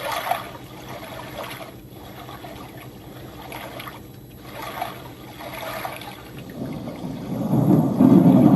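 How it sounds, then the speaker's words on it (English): Steady rain hisses with a low, distant rumble of thunder that swells and grows louder toward the end, a thunderstorm effect played by an aquarium LED light. "You got a thunderstorm. This one takes a second to kick in some thunder."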